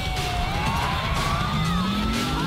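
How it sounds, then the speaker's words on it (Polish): A wailing ambulance siren in the GTA IV video game rises and falls continuously over steady traffic and engine noise, fairly loud throughout with no talk. "Co za durny ambulans, jego zabiję za chwilę."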